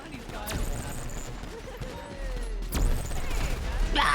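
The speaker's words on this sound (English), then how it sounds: "Beanbag shotgun." Beanbag shotgun fired in the GTA roleplay game NoPixel, two sharp loud blasts about two seconds apart over a busy game background of rumble and scattered noise.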